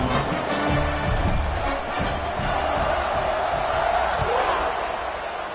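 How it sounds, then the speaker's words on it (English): Stadium crowd noise in College Football 26 after a score, a dense, steady roar of cheering that stays loud and constant throughout with faint thuds underneath. "this crowd is buzzing after that last score"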